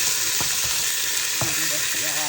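Mutton bones fry in a pan for Ethiopian alicha, a steady loud sizzle with a few scraping stirs cutting through, close and continuous with no talk.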